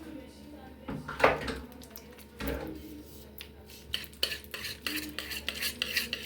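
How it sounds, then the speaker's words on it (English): Manual whisk beating vanilla cake batter in a bowl, a run of quick, close scraping and clinking strokes that grow steadier and more rhythmic toward the end, with a few louder knocks early on. "So I will whisk it till it becomes pale yellow"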